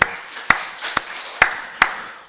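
A church congregation at a Thanksgiving Sunday service claps slowly and evenly, four sharp, loud claps spaced about half a second apart over a soft background.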